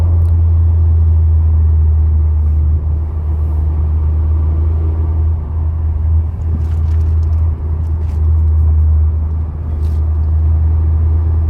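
Tata Altroz Racer at high speed heard from inside the cabin, a loud, continuous low rumble of engine and road noise throughout.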